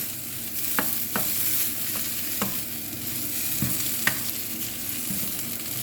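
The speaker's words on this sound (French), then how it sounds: "je vais finir de cuire mes pommes de terre" Potatoes fry in a pan with a steady soft sizzle, while a utensil stirs them and gives a few sharp clinks and scrapes against the pan.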